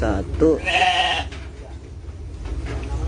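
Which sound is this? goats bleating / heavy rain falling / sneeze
goats bleating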